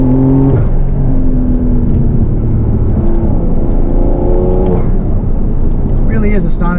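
A Porsche 992 911 Carrera 4S engine drones steadily from inside the cabin, its pitch sweeping up and down through the gears as the car accelerates, with a voice speaking briefly near the end.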